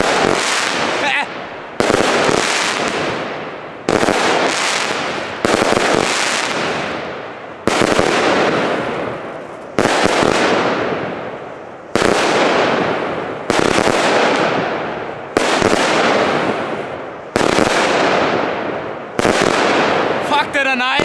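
Fireworks explode in rapid succession, roughly ten loud, close, crackling bangs at steady intervals of about two seconds, with voices occasionally audible between them.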